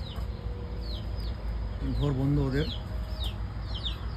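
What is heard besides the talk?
chicken clucking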